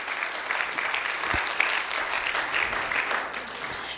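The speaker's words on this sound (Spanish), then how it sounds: "un fuerte aplauso" A crowd applauds steadily for several seconds, a dense, even clatter of many hands clapping with no voices over it.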